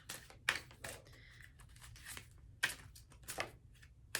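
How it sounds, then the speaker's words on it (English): Tarot cards shuffled by hand in a quiet room, a run of soft riffling and slapping bursts with a few sharper snaps, close and with no talking. "I've been like failing at shuffling lately. Like, the cards are just all over the place."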